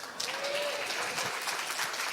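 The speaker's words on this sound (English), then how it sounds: "I don't want the clapping, just the good morning back, all right?" A church congregation claps together at a Sunday morning service, a steady wash of applause from a room full of people, moderately loud and unbroken.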